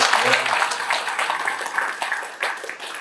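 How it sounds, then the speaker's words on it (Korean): Applause from attendees at a Democratic Party Busan city chapter members' meeting, a dense, steady wash of many hands clapping that carries on through the whole moment, loud and fairly close, with crowd murmur mixed in. "우리 다 같이 박수 한 번만 더 주시죠"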